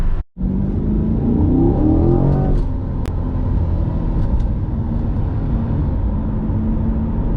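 A 2021 Chevrolet Corvette C8 accelerates hard onto a freeway, its engine droning loud and steady from inside the cabin as a rising gear sweep settles into a constant roar.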